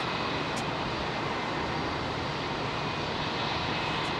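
Airliner jet engines spool up for takeoff at London Heathrow on New Year's Day, a loud, steady broadband roar holding at full strength throughout with no voices.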